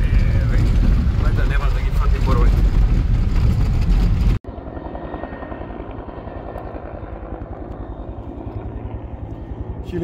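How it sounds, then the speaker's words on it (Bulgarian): A firefighting helicopter's loud rotor thudding steadily up close over a wildfire above Miletino, then abruptly cut to a quieter, muffled continuous rotor drone. "Хеликоптерот се обидува да го погоди во центар, пожарот над Милетино"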